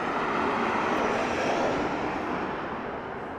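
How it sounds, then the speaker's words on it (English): A Delta Airlines passenger jet arrives at Harry Reid International Airport in Las Vegas with a broad, steady engine roar that eases slightly as it passes. "We have a Delta Aerolíneas flight coming in right now"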